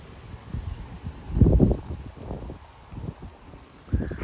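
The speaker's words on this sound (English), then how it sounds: "that was a good gust over there" A strong wind gust in Frisco, Texas, buffeting the microphone in low rumbling bursts, loudest in the middle and again near the end, with rustling and rain-like hiss in the background.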